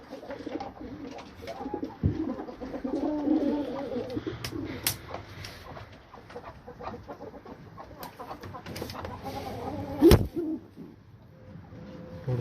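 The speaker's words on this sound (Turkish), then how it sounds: "Benim daha deminki gösterdiğim beyaz takla güvercinlerim yumurtasına yatıyor." White tumbler pigeons coo softly in a loft, a low repeated murmuring close by with occasional sharp knocks and flutters.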